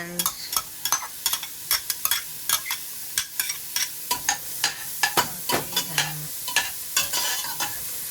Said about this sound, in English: I'm gonna put in the onions